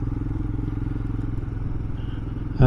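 Royal Enfield Himalayan motorcycle ridden on roads in the East Riding of Yorkshire, a steady close engine drone with rumbling low throb and wind noise throughout, ending in a sudden louder burst.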